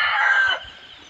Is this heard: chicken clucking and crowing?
yes